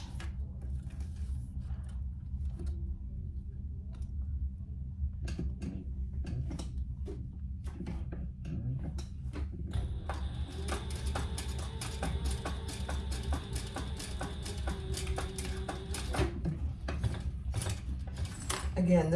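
Sewing machine running two rows of stitches on a small crossbody sling bag: a steady mechanical whir with rapid ticking needle clatter that grows busier midway, close up, with no voices.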